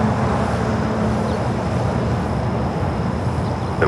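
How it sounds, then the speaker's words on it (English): An airplane takes off at LAX, a steady loud broadband engine roar with wind-like rumble that holds throughout without any voices. "Quick takeoff."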